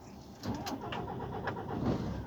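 A car engine with clogged injectors cranks and turns over on its own, a short mechanical whir and crank sequence, fairly close and moderately loud, with no talking.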